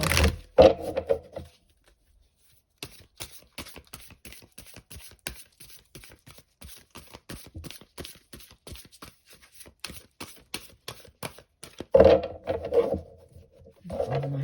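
A deck of oracle cards is shuffled by hand in a long run of quick, crisp riffling flicks and taps, close and moderately quiet, with brief louder handling noise at the start and end.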